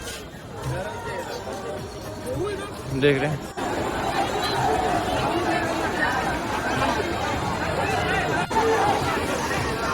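Crowd of pilgrims at Brahmakund ghat, Har Ki Pauri in Haridwar on a busy Sunday, a steady dense babble of many voices close and all around, with someone talking over the hubbub.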